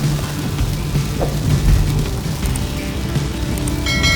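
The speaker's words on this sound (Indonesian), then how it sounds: "Perjalanan mudik kita ditemani dengan curahan air hujan." Heavy rain pelts a car during a holiday homecoming road trip from Jakarta to Tasikmalaya, a dense, steady roar of drops drumming on the roof and windows, loud and close, with a low rumble beneath and no talking.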